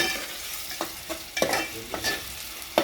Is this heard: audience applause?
no